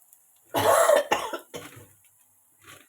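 A single loud, harsh cough up close from someone with a cold and sore throat, followed by a couple of weaker throat-clearing coughs, then quiet.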